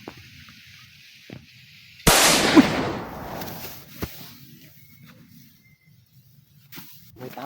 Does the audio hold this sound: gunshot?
yes